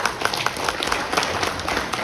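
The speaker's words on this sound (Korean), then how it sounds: "감사의 박수 한 번 더 부탁드리면서" An auditorium audience at a constitutional reform debate in the National Assembly Library applauds, with dense, steady clapping filling the hall throughout and no break.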